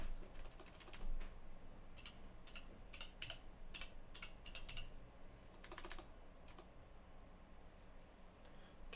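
Keys pressed on a custom 60% hot-swap keyboard built on a 1UP RGB PCB, a scattered run of faint, sharp clicks at irregular intervals against a quiet room.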